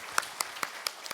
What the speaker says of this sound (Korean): 우리 삼위일체 하나님께 영광의 박수 올려드리겠습니다.